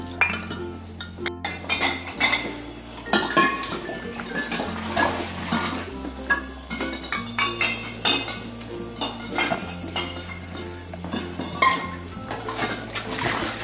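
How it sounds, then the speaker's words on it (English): Glass bottles emptied of homemade tomato juice are washed in water, giving repeated close clinks and knocks of glass against glass amid faint sloshing, with a steady low hum underneath and no talk. "when you empty them, when you drink up the tomato juice, you wash immediately"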